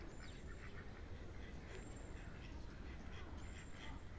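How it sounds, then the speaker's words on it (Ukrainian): White Indian runner ducks on an open-air animal area quack a few times, faint and somewhat distant against a loud, constant outdoor background noise. "качки."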